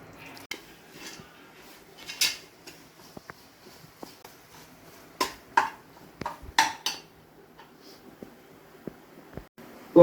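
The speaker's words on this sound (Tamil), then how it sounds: "நம்ம வதக்குனதை வந்து இதில் ட்ரான்ஸ்ஃபர் பண்ணிடலாம்." Sautéed masala for mutton biryani scraped and transferred into a pot, with intermittent spoon-on-metal clinks and soft wet scrapes in a quiet room.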